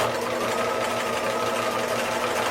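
Sewing machine running steadily while stitching closed the opening on a pair of pajamas, a continuous close-up mechanical whir with a faint hum, no pauses.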